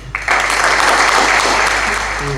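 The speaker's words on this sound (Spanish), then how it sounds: "le voy a pedir el segundo aplauso para José Antonio Santín" Audience applause breaks out after a brief quiet start and carries on as a loud, dense, steady clapping for about two seconds before starting to fade.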